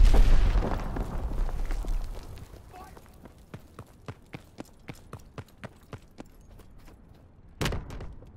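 Grenade blast in the Call of Duty: WWII team deathmatch on the Ardennes forest map: a heavy booming explosion with a long rumbling decay, then a run of rhythmic running footsteps and a later sharp impact.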